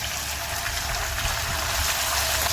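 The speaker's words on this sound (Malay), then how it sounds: "Okey, kita tuang sos tadi." Sauce poured into a pan while fish is being cooked for a Gong Pao dish, a steady close liquid gush and splash without pause and with no talking.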